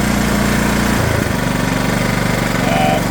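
A King 3.0 kVA gasoline generator runs loud and close at full revs, its engine drone steady with a brief dip in pitch partway through before settling back to a constant throbbing roar.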